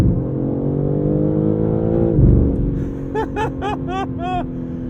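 Inside a 2023 BMW M3 Competition xDrive in manual mode, the engine drones loudly under acceleration, its pitch climbing and dropping sharply around a quick upshift, then carrying on steadily while a voice breaks in briefly with short exclamations.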